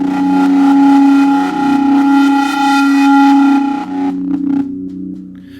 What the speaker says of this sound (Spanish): Vais a notar que ese armónico empieza a sonar cada vez más fuerte con respecto al resto.